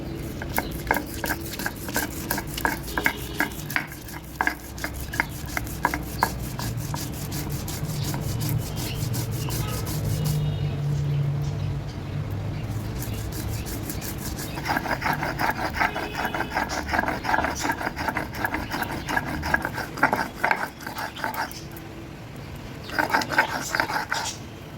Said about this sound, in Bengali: খুব ভালো করে আমার সর্ষেটা বাটা হয়ে গেছে